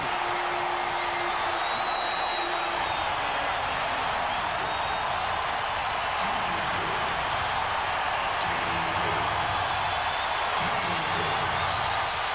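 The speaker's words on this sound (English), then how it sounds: "The crowd is so loud" Packed basketball arena at the 1998 Eastern Conference Finals, Game 4, Pacers versus Bulls: a loud, continuous crowd roar that stays dense and unbroken throughout.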